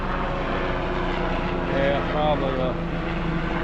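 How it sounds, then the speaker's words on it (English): A medical helicopter flies overhead at low altitude, leaving a steady rotor and engine drone across the whole stretch, with a brief voice speaking over it. "a medical helicopter flying from the UAB Care Center over in Gardendale"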